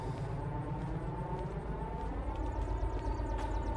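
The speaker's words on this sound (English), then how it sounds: "the sound for the diesels is like very strange right now" Diesel locomotive engine in the Derail Valley train game, a steady loud roaring drone with a whooshing, jet-like quality that holds continuously without pause.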